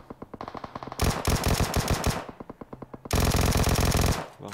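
Loud automatic weapon fire in PUBG Mobile comes in bursts: a lighter string of shots, then two heavy, dense volleys close by, separated by a short pause, with no voices.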